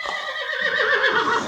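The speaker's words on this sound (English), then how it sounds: "Here's horse." A horse in a movie clip gives a single loud, close whinny lasting about a second and a half, a shrill, wavering cry that slides downward and ends without any background talk.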